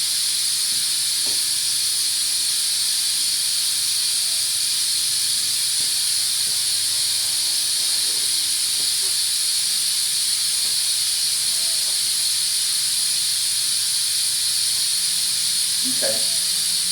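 A valve opened fully while testing a car's cooling system for a hard-to-find coolant leak gives off a loud, steady, unbroken hiss for the whole stretch, with a few faint clunks and knocks beneath it.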